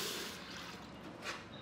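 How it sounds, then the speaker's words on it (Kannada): Water is poured into a pot for masala tea, about two glasses' worth. It makes a soft, steady splashing trickle, quiet and close, with no talking over it. "2 ಗ್ಲಾಸ್ ನೀರು ಹಾಕ್ತಾಯಿದ್ದೀನಿ ಟೀಗೆ"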